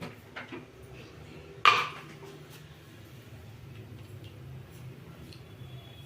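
A pressure cooker lid is closed over tomato rice, giving one sharp metallic clack of lid on pot that stands out clearly against a low, quiet kitchen background.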